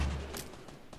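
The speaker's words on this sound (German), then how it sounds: "Na, der hat einen Schuss abbekommen von mir." Gunfire in the Fortnite Battle Royale video game, heard as a quick cluster of sharp shots and bursts that fade slightly over a single second, without talk.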